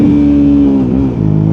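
A Suzuki V-Strom 650 motorcycle engine sits on its rev limiter in first gear at about 80 km/h, a loud, close, sustained high-revving drone that stutters briefly as the limiter cuts in and then holds again.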